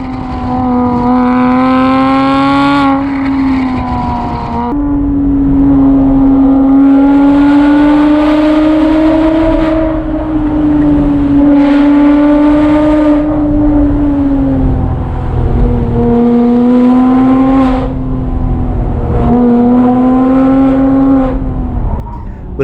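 A Porsche Boxster S flat-six with a valved exhaust revs loudly and close by, a sustained droning note that rises and falls through several rev swells with no talking.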